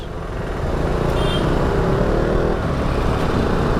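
KTM Duke 200 motorcycle riding through city traffic, a steady engine drone and road rumble that holds level throughout, with broadband traffic noise around it and no speech.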